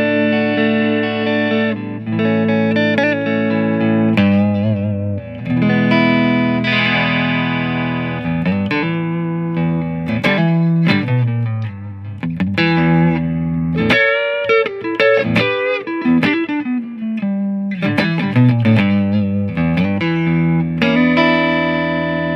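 A clean electric guitar with a 550-yen pickup, played through a Pro Reverb amp, plays chords and single-note phrases with a lush, ringing reverb tail, loud and up close, with no voices.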